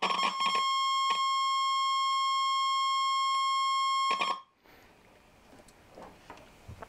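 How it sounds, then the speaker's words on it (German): A buzzy one-kilohertz square-wave tone from an astable multivibrator transistor circuit, played through a small transistor amplifier, sounds loudly in several bursts with brief gaps, then cuts off into quiet background noise. "Also wir haben es in etwa mit einem Kilohertz-Ton zu tun."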